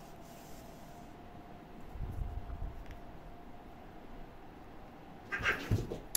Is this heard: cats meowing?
yes